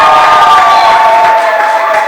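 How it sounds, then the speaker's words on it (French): Wedding guests at a customary marriage ceremony cheer and applaud loudly as a crowd, with shouting voices over steady clapping. "Applaudissez s'il vous plaît."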